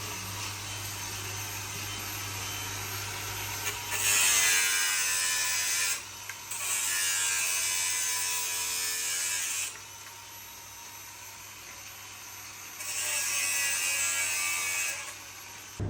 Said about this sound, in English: I'm just grinding off all the old nails where I've had all this spliced together